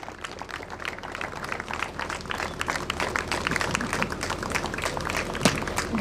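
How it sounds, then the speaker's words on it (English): An audience at an award ceremony for correctional administration officers applauds with sustained, moderately loud clapping that builds slightly over its length, with no one speaking. "Please give a big round of applause."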